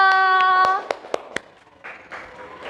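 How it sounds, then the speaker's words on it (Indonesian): A classroom gives a brief round of patterned clapping for a group: a handful of sharp, evenly spaced claps. A short sustained tonal sound at the start partly overlaps them, and faint activity follows. "Tepuk tangan kelompok"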